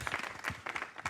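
An audience at the FullDome Festival 2024 nomination announcements gives brief applause, a short burst of a few scattered claps, quiet and quickly over.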